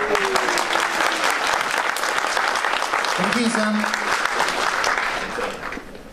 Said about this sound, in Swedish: Och applåderar de för det.